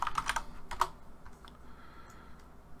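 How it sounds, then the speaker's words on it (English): A quick burst of typing on a computer keyboard, several crisp clicks close up, then a pause with faint room noise. "I'm going to go ahead and clear this by typing clear."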